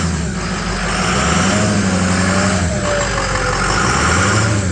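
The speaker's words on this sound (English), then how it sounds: "you would rev it and it would go broom" A 6.0 Power Stroke diesel truck engine revs up steadily and loudly close by, with a rising, smooth pull and no hesitation, continuous throughout without talk.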